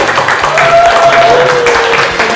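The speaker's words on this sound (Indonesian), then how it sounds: "Boleh dong kita beri tepuk tangan untuk" Dense crowd applause from a student audience at a Family 100-style quiz show between campus media teams. It fills the whole moment as a steady, loud wash of clapping, with a faint sustained tone running underneath.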